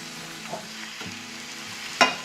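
A ladle stirs egg masala in a pan under a low simmering sizzle, with a few soft scrapes and a sharper clink toward the end, close and with no talking.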